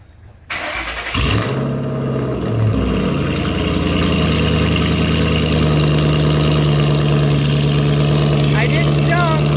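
A Ford Mustang GT cold-starts with a loud crank and catch, then settles into a loud, steady, rumbling high idle that holds throughout, with voices faintly underneath.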